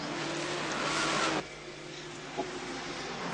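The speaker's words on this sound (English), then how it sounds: "Dick Johnson down the inside and Peter Brock just glued to their tails as they come down pit straight." Race cars of the 1981 Bathurst race coming down pit straight, a loud roaring rush of engines that drops off sharply as they pass, leaving a lower, steadier engine drone.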